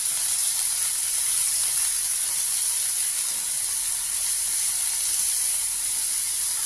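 Salted food sizzles in a frying pan while being stirred, a steady bright hiss that holds at an even, moderate level throughout with no talk.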